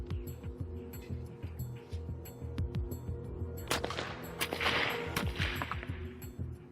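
A rifle fires a Minié ball into ballistic gel in a Civil War–era ammunition test, a sharp report over low rumbling background, with several brief cracking transients and a louder burst around the middle.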